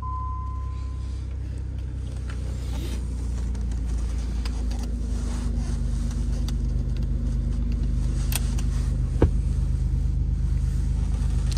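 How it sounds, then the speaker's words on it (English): A steady, deep engine rumble from an exhaust leak fills the recording from inside a moving 1992 Chevrolet Lumina APV minivan, constant and loud with faint rattles and a brief tone at the start. "Has a bit of an exhaust leak, so that's where that rumble is coming from."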